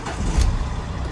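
A car engine cranks over, with a short, deep rumbling burst that is fairly close and lasts barely a second.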